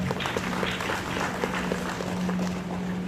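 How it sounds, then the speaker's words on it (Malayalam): An audience at an honours ceremony for young achievers at I CAN Academy claps in a moderately loud, fairly even patter over a low electrical hum. "നമുക്കൊരു ബിഗ് ക്ലാപ്പ് കൊടുക്കാം."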